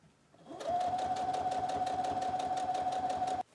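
Sewing machine stitching through a single layer of fabric on a file folder junk journal, a steady rapid mechanical whir with a sustained motor hum, starting after a brief pause and running loud and continuous before stopping abruptly.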